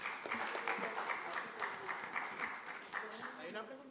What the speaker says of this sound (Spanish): un aplauso para doña Leda